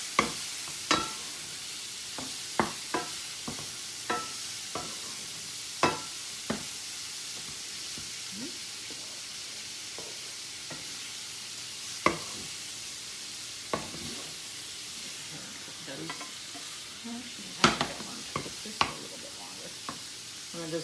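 Shrimp fry with peppers and onions in a hot pan, a continuous sizzle broken by repeated sharp scrapes and taps of a utensil stirring the mixture.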